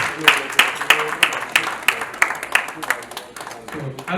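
A crowd at a school fundraising gala claps in a steady, rhythmic beat, the sharp claps close and regular, fading somewhat toward the end, with voices faintly underneath.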